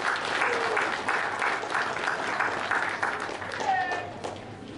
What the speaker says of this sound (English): give all our sponsors a round of applause